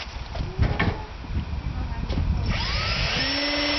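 A power drill drilling into steel whirs up from a slow start into a steady high-pitched grinding whine, close and loud, with scattered clatter early on.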